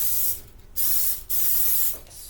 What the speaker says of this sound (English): spray this pan down with baking spray